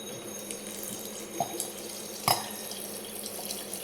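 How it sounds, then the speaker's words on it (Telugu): Tap water runs quietly into a sink while vegetables are washed, a faint steady trickle with a few soft splashes and knocks, no talk. "ఫస్ట్ 2 times ట్యాప్ వాటర్తో కడిగి తర్వాత ఫ్రెష్ వాటర్తో అంటే మినరల్ వాటర్తో."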